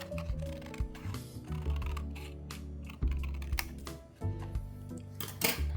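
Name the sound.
scissors cutting paper for origami keycap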